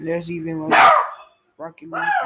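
A dog barks sharply once, loud and close, breaking into a person's speech, which carries on before and after the bark.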